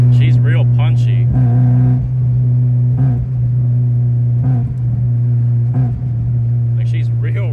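A Mazda Miata fitted with a cold air intake cruises along, its engine holding a steady low drone with a few brief rises in pitch, loud and close, while someone talks over it.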